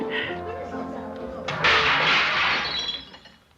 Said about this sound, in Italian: Niente, è caduto un vassoio.